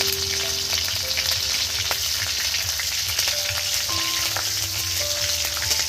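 Chopped green chillies and mustard seeds frying in hot oil for a vegetarian Mughlai paratha: loud, dense sizzling with popping crackles, steady and close, with no voices.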